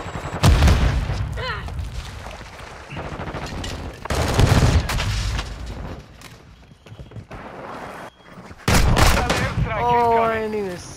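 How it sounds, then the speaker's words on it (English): A grenade blast amid heavy gunfire in Call of Duty: Modern Warfare II, loud booming impacts and bursts of shooting trading off, with voice callouts interleaved between the explosive hits. "Threat sighted! Throwing grenade!"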